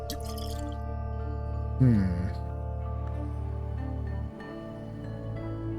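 Water being replaced in the video game Book of Hours: a short liquid splash-and-pour effect near the start of the second second, over steady background game music.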